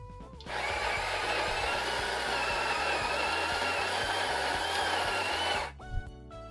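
A coffee grinder set to its finest setting whirs steadily as it grinds coffee beans into a fine powder for a pork rub. The grinding runs continuously and loudly for about five seconds, then cuts off abruptly.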